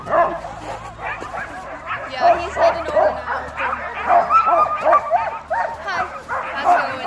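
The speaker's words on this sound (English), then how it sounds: "You can almost hear the dogs barking now." Sled dogs at a dog camp on a glacier bark and yip excitedly, with repeated loud barks and whimpers throughout and people talking close by over the noise.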